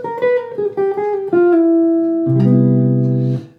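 A guitar plays a quick diminished scale line, a run of clear plucked notes descending in steps before settling into a sustained final chord, played alone.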